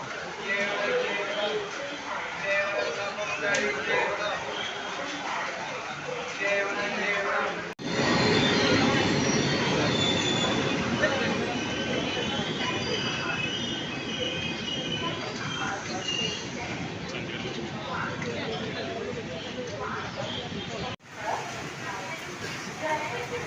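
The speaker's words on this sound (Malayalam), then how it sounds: "നമുക്ക് ട്രെയിൻ വരാറായിട്ടുണ്ട് ഇടപ്പള്ളി ആയിട്ടുള്ള ട്രെയിന് ട്രെയിൻ വരാറായിട്ടുണ്ട്" A train pulls into a station with a loud, continuous rolling rumble and a high wheel squeal, heard from close by on the platform for the whole stretch.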